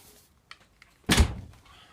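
A DeLorean gull-wing door, its lift piston worn out, is shut and closes with a single heavy thunk after a few small clicks, loud and close.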